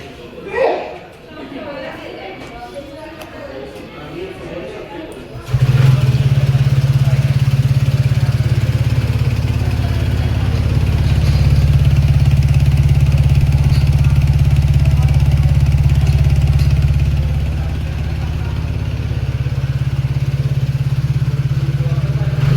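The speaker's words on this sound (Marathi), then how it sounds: "या स्कूटरचा आपण एक्झॉस्ट नोट ऐकूया." A TVS Ntorq 150 standard-variant scooter idles with a steady, loud low exhaust rumble that starts abruptly after a few seconds of talk and holds evenly, dipping slightly near the end.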